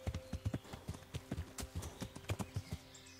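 Horse hooves clip-clop in a steady, fairly close rhythm as the horse Peebles is ridden toward an abandoned mine shaft in Kingdom Come: Deliverance, with faint game ambience underneath.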